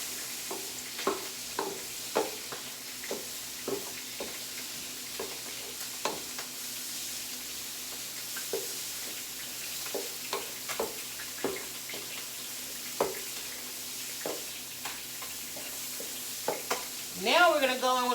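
Garlic sizzles in a pan for fried rice as a soft, steady frying hiss, punctuated by repeated scraping stirs, with a voice briefly at the very end.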